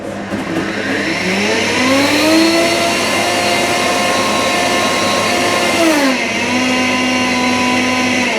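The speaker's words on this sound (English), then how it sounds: "you're only going to blend for like 10 seconds because you don't really want to put too much friction and heat through your juice" A blender whirs loudly and steadily for several seconds while blending juice, its motor pitch rising as it spins up, holding, then dipping and settling to a lower drone.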